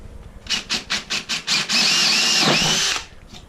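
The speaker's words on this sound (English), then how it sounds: "so we've got a 10 mil drill bit" A power drill with a 10 mm bit pulses in six short bursts, then runs continuously at full speed for over a second before stopping, loud and close.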